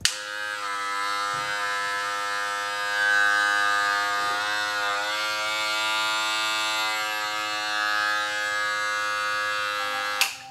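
A hair clipper fitted with a new BlurGuard metal blur blade runs steadily, a loud continuous electric buzz with strong harmonic whine, switched on at the start and off at the end.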